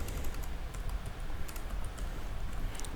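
Quiet, rapid keystrokes on a computer keyboard, an irregular run of light clicks over a few seconds with no voices.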